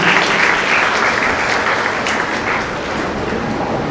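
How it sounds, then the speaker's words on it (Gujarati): An audience at a Varisht Pariwar event in Dahisar East applauds a welcome with dense, loud, sustained clapping that fills the room evenly for nearly four seconds and eases slightly at the end. "મિત્રો સ્વાગત કરીએ છીએ જોરદાર તાળીઓથી"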